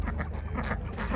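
Geese and other poultry at a busy outdoor market honking and quacking in quick, loud, overlapping calls over a low crowd rumble.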